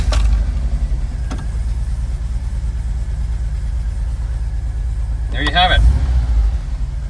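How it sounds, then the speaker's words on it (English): A 1986-91 Volkswagen Vanagon with a Digifant engine and a high idle fault runs with a steady, loud, low engine drone throughout, with keys jangling briefly and someone talking near the end. "Let's start the Vanagon up and let's see how it idles."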